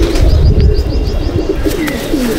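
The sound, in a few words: pigeons cooing in a loft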